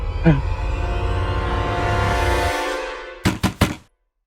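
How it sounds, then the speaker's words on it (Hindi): Three loud, sharp knocks on a home door in quick succession, following a stretch of steady background music that cuts off just before. "शोभा, दरवाजा खोलो भाई"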